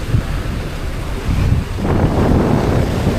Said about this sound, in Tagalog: Lakas pa rin hangin.